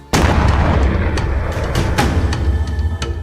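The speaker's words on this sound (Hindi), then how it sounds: "अचानक होम थिएटर में ब्लास्ट हुआ।" A home theater system blows up with a sudden loud blast at a wedding home, followed by a rumbling, crackling roar with scattered sharp pops that continues for a few seconds.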